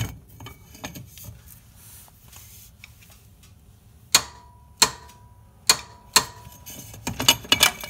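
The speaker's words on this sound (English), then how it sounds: "We're going to be tightening with a half-inch torque wrench, six-sided socket, 19 millimeter, and a cheater bar right there." On a 1993-2001 Toyota Camry lower control arm, a half-inch torque wrench with a 19 mm six-sided socket and a cheater bar tightens a bolt. Several sharp, separate clicks land a second or so apart, then a quick cluster closes it out.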